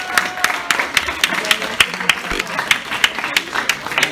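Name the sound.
audience applause for Terka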